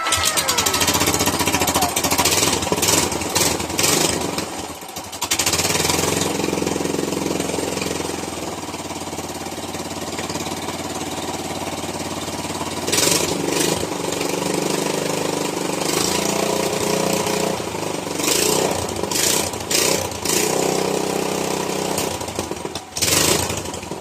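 A kuliglig hand tractor's replacement engine, a 2013 unit from Marinduque, runs loud and close, a harsh rapid chugging drone with a few brief dips and surges and no talk.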